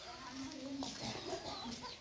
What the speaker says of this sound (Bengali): দেখেন কত সুন্দর হাঁসের বাচ্চা